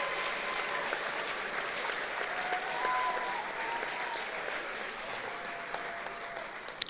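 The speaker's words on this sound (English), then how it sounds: "Big round of applause for everybody on the stage one more time." Sustained applause from an indoor audience at a high school fall signing day for athletes on stage, steady and even throughout, with a few louder individual claps.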